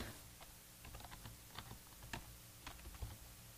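Rapid, quiet clicking of a computer keyboard as code is typed, in irregular bursts of keystrokes with no voice.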